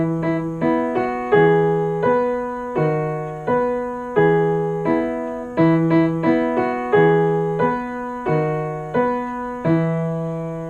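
A piano piece with both hands together: a steady low left-hand pattern under a simple right-hand melody, evenly paced notes, close and clear with no voices.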